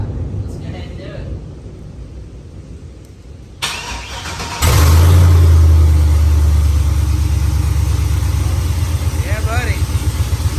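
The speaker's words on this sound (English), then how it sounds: "I guess Jordan's ready to fire" A work truck with header-dumped exhaust sits quietly, then cranks and fires into a loud, raw, rumbling idle with blips of revving; people talk before it starts.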